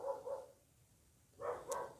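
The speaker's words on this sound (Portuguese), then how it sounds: "Ah, cachorro." A dog barks twice in quick succession, then pauses and barks twice again, fairly close and moderately loud against a quiet background.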